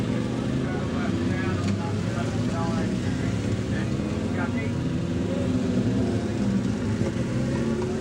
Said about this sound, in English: twin-engine Triumph drag bike.